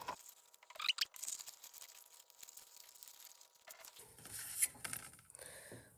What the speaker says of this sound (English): I'm going to go ahead and cut out my wings.